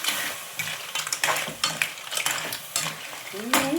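Clams stir-fried with chili in a pan, a continuous sizzle broken by repeated rhythmic scrapes and clanks of a spatula against the metal, close and fairly loud.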